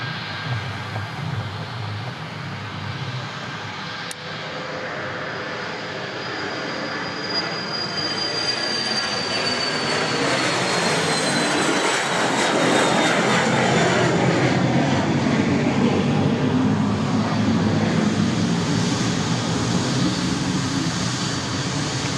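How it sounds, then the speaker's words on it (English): Embraer Phenom 300 business jet taking off at Dallas Love Field, a loud continuous engine roar that swells and builds with a rising whine, heard alone without talk. "First of which is this one, an Embraer Phenom 300."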